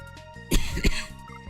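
A harsh cough and throat clearing from a man who has a nasty cough, two sharp rough bursts close to the microphone over a faint background tone.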